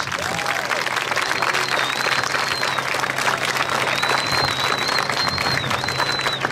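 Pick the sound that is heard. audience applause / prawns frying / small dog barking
audience applause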